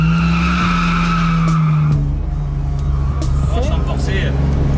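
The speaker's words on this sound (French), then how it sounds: "Alors là c'est chauffe, on chauffe les pneus là." A drift car on slick tyres holds a steady engine note while its tyres squeal and skid continuously as they heat up, with people talking over it.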